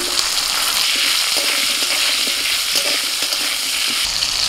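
Diced bottle gourd frying in hot oil with a tempering of dry red chilli, green chilli and cumin, giving a steady close sizzle with faint stirring clicks throughout, no talking.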